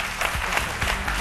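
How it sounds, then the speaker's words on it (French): A studio audience on a French-language midday talk show claps warmly for an arriving guest, a brief burst of steady applause. "Je vous demande de l'applaudir bien fort."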